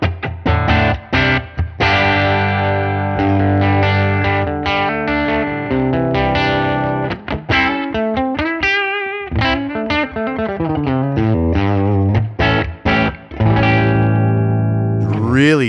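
Electric guitar played through Amplitube 5 with compression and reverb with pre-delay, a fast run of distorted, chorus-tinged notes and chords with short gaps, loud and up front, ringing out with a wet tail.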